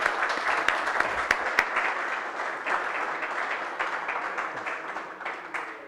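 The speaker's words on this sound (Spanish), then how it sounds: "Yo creo que le damos un nuevo aplauso al almirante Valdegal" Audience applause for an admiral at a Chilean exhibition event: a roomful of steady, dense clapping that stays loud with a few sharp individual claps, then slowly fades. No talking.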